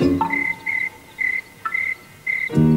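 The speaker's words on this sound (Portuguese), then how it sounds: "Ouço grilos," Evening crickets chirp in quiet dusk, a clear close high-pitched trill repeating in short regular bursts about every half second, with a few low tonal sounds at the start and end.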